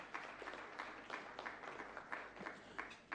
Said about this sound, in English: A round of applause for Madam Sylvia Inkum with Stanbic Bank.